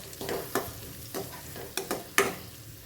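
Chopped small onions, curry leaves and cashew pieces sizzling in a hot pan, with a soft continuous fry broken by several sharp stirring scrapes and spatters at irregular intervals, close and fairly quiet.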